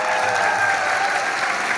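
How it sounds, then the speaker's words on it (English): A dense, loud wash of audience applause at an Iranian Heritage Day event at the ROM, continuous and even for its whole length with no talk. "I think we need to give you all a big round of applause."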